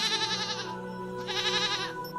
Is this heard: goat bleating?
yes